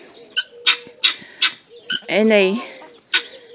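Young guinea fowl in their pen give a rapid series of sharp, close chirping calls with a short rising squawk partway through, while a person talks over them.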